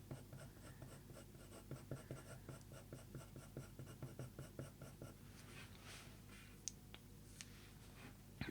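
Colored pencil shading over paper, layering a nougat-toned area of a leopard eye drawing with slightly increasing pressure. Quiet, close, rhythmic scratchy strokes repeat in quick back-and-forth bursts, then turn into sparser light ticks and taps.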